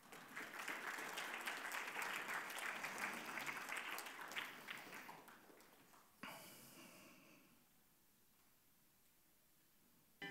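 An audience at an award ceremony for a Mazovian history competition breaks into loud, sustained applause that gradually dies down. Near the end comes a brief close breathy noise, followed by quiet room tone.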